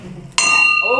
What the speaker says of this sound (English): The rotary bell.